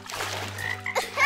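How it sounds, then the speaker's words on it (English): A cartoon frog sitting in rainy-day puddles croaks in a short burst of throaty, rattling calls, close and clear with a faint hum underneath and no speech. "Chiamaka, that frog is simply enjoying the rainy day puddles just like you"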